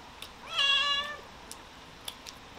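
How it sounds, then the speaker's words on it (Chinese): One clear, drawn-out meow from a cat rises and falls in a quiet room, with a few faint clicks and taps around it. "我喵喵又在叫"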